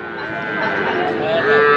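A young bull calf moos in a drawn-out low call amid a busy cattle market murmur at Aftabganj, with voices in the background.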